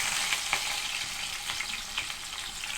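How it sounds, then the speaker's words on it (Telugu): Onions frying in oil with mustard seeds and cumin, a dense continuous sizzle with occasional light stirring ticks, close and even in level, no speech. "ఉల్లిపాయలు ఎర్రగా వేగాక ఎండు నెత్తళ్ళు కూడా వేసుకోవాలి."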